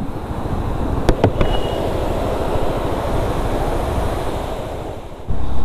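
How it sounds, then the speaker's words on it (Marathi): The Aambneli waterfall on the Aambneli Ghat near Mahabaleshwar plunges down in monsoon flow, a steady, loud broadband roar that holds throughout, with a couple of faint clicks early on. "तर पाहू शकता इथून वरून कोसळणारा हा आंबनेळे धबधबा"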